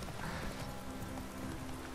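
Horse hooves clip-clop in a quick, steady gait in The Witcher 3 video game, a rhythmic clatter under a faint tonal background hum, with no one talking.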